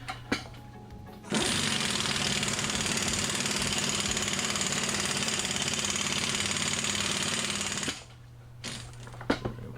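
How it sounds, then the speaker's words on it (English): Impact wrench driving an exhaust expander on a 1992 Firebird exhaust, a loud continuous rattling hammer running steadily for about six seconds, with quieter shop clatter before and after. "I don't have to run the impact for so long."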